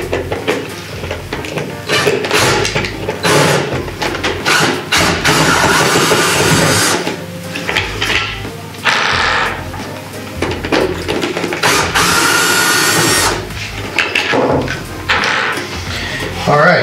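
A power drill whirs in several short bursts, removing screws from an above-ground pool cleaner, with pauses and clattering handling noises between runs, close by.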